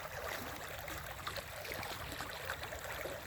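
Floodwater flowing, a steady broadband rushing and gurgling that stays constant at low level, with no talk over it.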